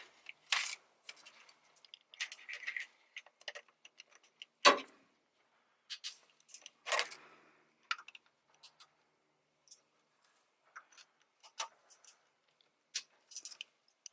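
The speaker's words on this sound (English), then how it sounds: "10mm to remove those 3 bolts on top of the solenoid to crack them loose" A 10mm wrench loosens the bolts on top of a Honda VTEC solenoid, producing sparse metallic clicks and ratcheting taps with quiet gaps between them.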